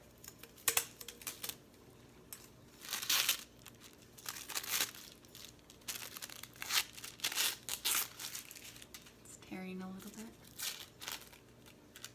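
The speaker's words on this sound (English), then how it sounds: "I'm gonna take off the tissue paper" Tissue paper being peeled and crinkled off a glass bath salt bottle, close up, in uneven bursts of rustling and tearing with a brief hum partway through.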